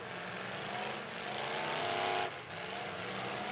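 Demolition derby cars rev hard in a Pro Lite heat, engines roaring in a sustained loud wash that swells and then drops off sharply near the end.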